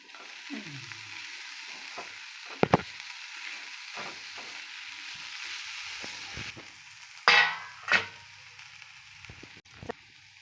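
Dry prawns frying in a pan for a Marathi sukat chutney, stirred with a spoon: a soft, continuous sizzle broken by a few sharp scrapes and knocks of the spoon against the pan, close by, with no voices.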